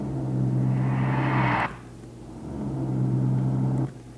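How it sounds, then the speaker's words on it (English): A car engine used as a short-film sound effect hums and rumbles steadily, swelling twice into a louder rev-like pass before dropping back to an idle-like drone. "what I also do is I add in the sound of the car"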